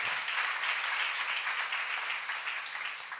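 A congregation at a church seminar breaks into sustained applause, a thick, even roar of many hands clapping that stays steady and slowly tapers off.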